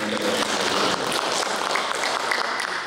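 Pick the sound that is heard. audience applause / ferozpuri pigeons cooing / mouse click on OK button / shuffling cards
audience applause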